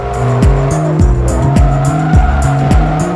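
A Bugatti Veyron with an 8-liter, roughly 1,000-horsepower engine roars in Forza Motorsport 3, its loud engine tone climbing and dropping through rapid repeated gear shifts while tires squeal.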